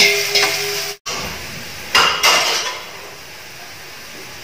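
Onions frying in a pan for beef biryani, a steady sizzle broken by a few sharp metal clanks of a utensil against the pan and a brief cut in sound.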